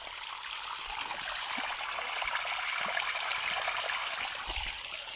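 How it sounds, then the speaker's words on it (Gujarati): Water flows from a spring on a hillside near a village, giving a steady, close, rushing trickle that runs the whole time without pause, with no voices over it. "આમ જો પાણી અહીંયાથી આવી રહ્યું છે."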